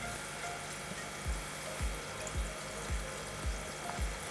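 Water bubbles and churns steadily through an aquarium resin reactor, with soft low thumps recurring about every half second under the continuous wash.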